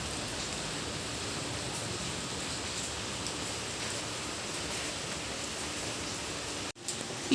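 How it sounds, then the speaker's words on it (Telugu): Steady, even rain pours down throughout, a dense broadband hiss with no talk, ending in a brief cutoff near the close. "పూజ అయిందో లేదో వర్షం స్టార్ట్ అయిపోయింది."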